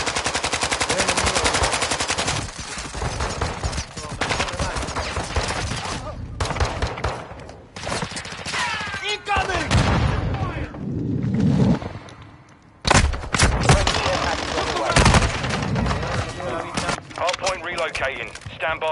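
Dense automatic gunfire in Call of Duty Modern Warfare 2, long rattling bursts and fusillades loud and close, mixed with game effects and voice callouts throughout.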